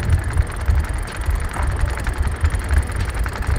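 Boat engine running in reverse while setting anchor, a steady low rumbling drone with slight pulsing, close and moderately loud, with no talking.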